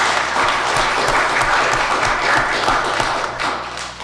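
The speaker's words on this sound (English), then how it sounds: "let's have a round of applause for Sandra." A round of applause at a city council meeting in Bastrop, with a roomful of people clapping steadily and fairly loudly for a few seconds and some low thumps underneath.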